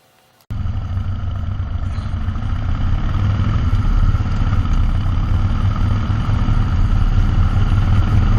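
A Harley Sportster motorcycle engine kicks in abruptly after a brief quiet moment, then thrums steadily and loudly at around 39 miles an hour, with wind noise layered over the low rumble.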